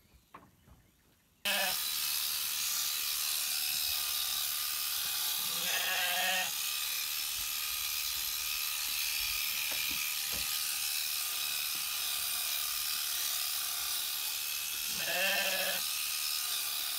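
Sheep and goats bleat in short calls at a farm during professional sheep shearing, heard a few times over a steady broadband background hiss of clippers and barn noise, with faint mechanical clicks between.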